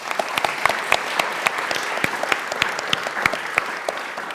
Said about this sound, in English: Please give Helen a round of applause as well.